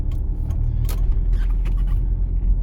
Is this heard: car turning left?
yes